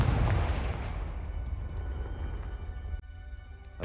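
A Confringo blasting spell explodes in the Hogwarts Legacy video game, a loud booming burst at the start that rolls into a long rumbling decay, with a brief dip near the end before the rumble swells again.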